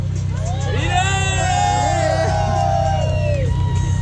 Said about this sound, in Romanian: Și acum urlete pentru Beatle.